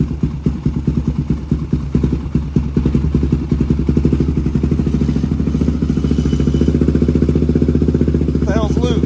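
Big bore 400EX engine in an ATC three-wheeler running loud and close, a rapid rhythmic putter with a loose fuel tank rattling against the frame, and a voice comes in at the end.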